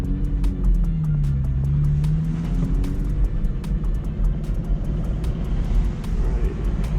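A BMW driving on a race track, its engine a steady close drone with a rising and falling pitch sweep early on, running continuously with no talk.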